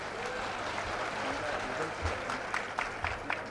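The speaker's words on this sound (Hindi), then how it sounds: "अब ताली बजाओ भाई जोर से।" Applause from a crowd at an event for a Chhattisgarh Congress MLA, moderately faint with a scattered texture and some sharper individual claps near the end, under a hum of voices.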